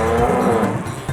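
A buffalo lets out one loud, drawn-out moo, close and alone, filling the whole second without any talking.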